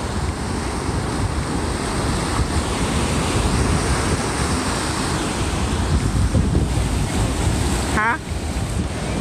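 Ocean waves break and wash onto the shore at a Pensacola, Florida beach, making a continuous loud surf rush mixed with wind noise on the microphone, with a brief sharp sound near the end.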